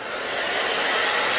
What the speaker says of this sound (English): And then I just go in my blow dryer with a lot of patience.